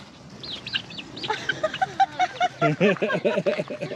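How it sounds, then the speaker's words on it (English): Several chickens cluck close by, rapid rhythmic bursts growing busier and louder toward the end, over faint background noise. "Look, the crazy little chickens come over too."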